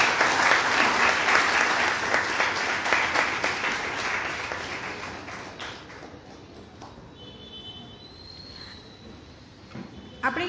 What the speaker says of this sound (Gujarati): આંચલને તાળીઓથી વધાવીએ.